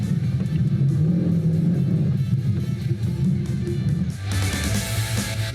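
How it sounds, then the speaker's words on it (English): A Mopar muscle car's engine rumbles loudly and steadily up close, with a deep low-end throb that shifts into a rougher, brighter roar near the end, no voices over it. "See that car right there? I'm gonna drive the shit out of it."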